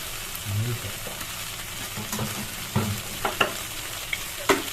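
Curd-coated pointed gourd (potol) cooking in a pan on a low flame, a soft steady sizzle with occasional stirring scrapes and light clicks, close up.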